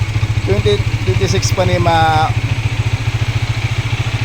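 A large-engined motorcycle idles close by with a steady, low, pulsing rumble throughout, while someone talks over the first half.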